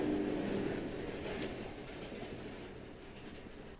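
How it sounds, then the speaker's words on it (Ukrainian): A subway train in Roblox rolls past with a steady rumble and rhythmic clickety-clack of wheels, loud at first and slowly fading as it moves away. "А, це поїзд. Це поїзд був."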